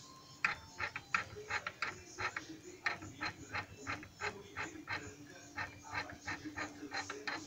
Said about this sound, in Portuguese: Aí você vai pressionando até que o IBR se abra totalmente.